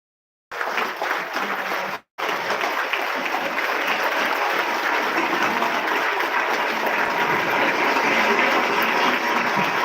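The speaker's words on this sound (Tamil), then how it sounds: "கைத்தட்டி நம்ம உற்சாகப்படுத்துவோம்" An audience at a school alumni reunion, held 22 years after graduation, claps in appreciation. The thick, roaring applause starts abruptly, breaks for an instant, then carries on loud and unbroken to the end.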